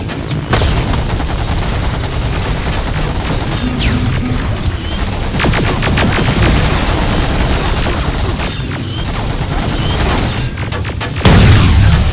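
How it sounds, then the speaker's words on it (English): Heavy gunfire and explosions fill a battle in the game Terminator Resistance, loud and continuous with booming blasts and rapid shots, with faint shouting now and then. "Don't stop shooting!"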